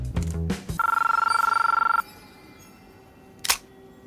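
A telephone rings in an office in The Matrix film, one loud, fast-trilling electronic ring that lasts over a second. Thuds and clatter come before it and a sharp knock follows.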